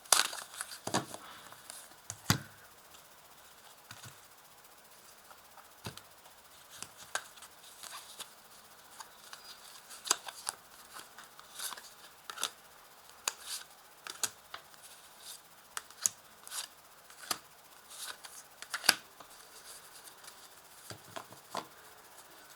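Oracle cards laid out and handled on a table during a tarot reading, giving soft scattered slaps, shuffles and paper rustles in an irregular rhythm, close and fairly quiet.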